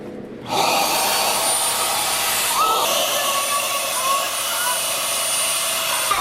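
An electric air pump inflates an inflatable peacock on a sailboat in the British Virgin Islands, giving a steady, loud whooshing drone that starts abruptly and runs unbroken to the end.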